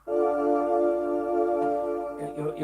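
A keyboard tone with vibrato layered over sustained strings, rich and steady, then shifting to a new chord near the end.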